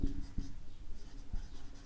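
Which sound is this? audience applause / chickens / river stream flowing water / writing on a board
writing on a board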